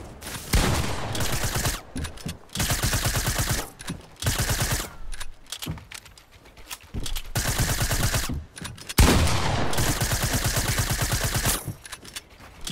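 Fortnite gunfire with a grenade launcher in the mix, heard as loud, sustained bursts of rapid shots broken by brief pauses, close and dense throughout.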